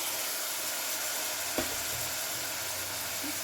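Tomato added to a hot pan while cooking mint rice gives a steady, even sizzle of frying throughout, with one soft knock partway through and no speech.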